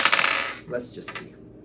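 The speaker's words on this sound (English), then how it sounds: "Let me just do the dice on it" Dice clatter and tumble on a hard surface during a strategy game, a quick loud burst of rattling clicks that settles into a few softer bounces and fades, with no talking.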